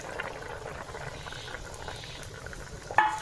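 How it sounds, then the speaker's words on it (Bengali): Okra curry simmers in a pot with a soft, steady bubbling close by, ending with a slightly louder pop. "দেখো কত সুন্দর জাল হচ্ছে"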